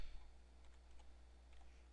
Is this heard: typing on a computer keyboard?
yes